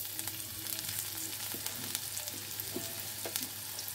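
Black cumin seeds and chopped garlic sizzle steadily in hot frying oil, a constant crackling hiss with small pops and occasional stirring scrapes, close and alone.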